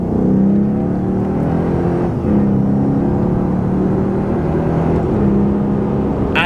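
A Lexus IS-F engine hums loudly and steadily from inside the cabin, its pitch dipping and rising in stepped shifts as the automatic transmission downshifts and blips the revs under braking.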